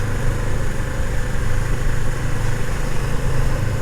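Honda CB500X motorcycle engine droning steadily while riding on an open mountain road, a constant close rumble with wind noise and no speech.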